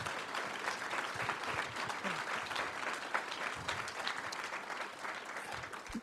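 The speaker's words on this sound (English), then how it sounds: "if we could give all those volunteers for all those different elected officials a quick round of applause" A crowd at a civic gathering with elected officials gives a round of applause for campaign volunteers: dense, even clapping that lasts several seconds, heard at a moderate distance with no voices over it.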